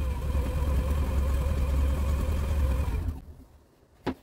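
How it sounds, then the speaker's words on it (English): A 3 kilowatt electric bike motor on a wind turbine test rig hums and whirs steadily with a low droning buzz for about three seconds, then cuts off abruptly, leaving near silence and a brief faint click. "we've got the 3 kilowatt bike motor hooked up"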